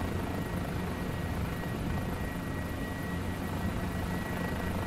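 A Guimbal G2 helicopter in Microsoft Flight Simulator 2020 running at full throttle, a dense steady engine roar with a continuous rotor whine, constant and close with no variation.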